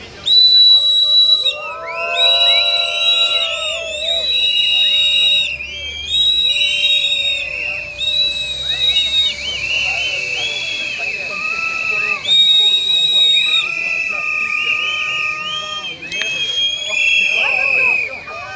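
Many protesters blow whistles together outside Strasbourg station in a demonstration against a nuclear waste train, shrill overlapping blasts in repeated rhythmic bursts, loud and near, with voices mixed in.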